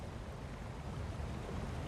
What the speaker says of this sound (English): To the waterfall. Can you hear it?